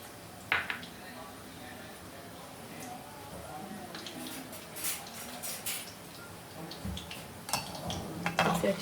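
A spoon scrapes and clinks against a metal pot while stirring sugar into water for Sindhi sweet rice, irregular taps and scrapes at close range, a few sharper knocks near the end, with faint background noise.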